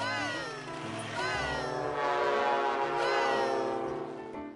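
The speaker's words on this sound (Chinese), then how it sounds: "小火车会呜呜地在轨道上跑。" A toy train toots with bright, warbling whistle calls over a steady rolling rattle on its tracks, repeating every second or so against a light cartoon-style backdrop, fairly close and clear.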